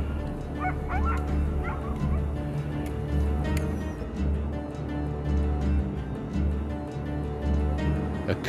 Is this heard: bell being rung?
no